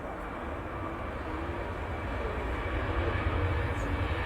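A Singapore Airlines airliner rumbles at an airport, a steady broad roar that slowly swells over several seconds with no talk.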